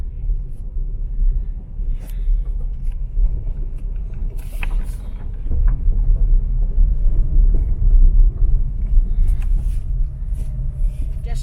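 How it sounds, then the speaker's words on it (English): A car rumbles along a narrow road in the Philippines while passing a slow truck, its engine noise steady and swelling louder partway through, with faint scattered background sounds. "I just overtaken that truck because it's running so slow."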